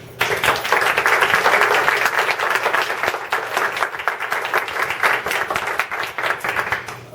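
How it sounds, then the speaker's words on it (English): Audience applause for a guest and his wife, a dense, loud, steady clapping that carries on for several seconds without talk. "I'd like you to give a nice round of applause to my good friend, Gordon, and his wife."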